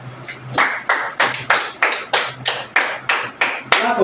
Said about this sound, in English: Rise up and clap for this one too.